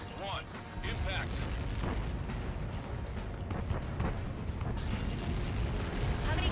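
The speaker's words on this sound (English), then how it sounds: "Caught in that explosion." A massive missile impact blast in the Ace Combat 7 combat flight game erupts as a dense, sustained rumbling roar with crackling booms rolling through the whole stretch, loud and continuous.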